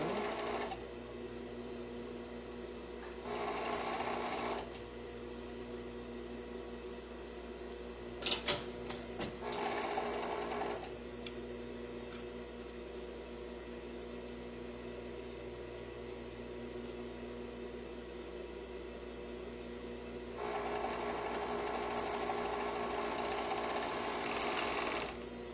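Overlock sewing machine stitching fabric in bursts, a buzzing mechanical whir starting and stopping several times with quiet gaps between runs, near and clear with no speech.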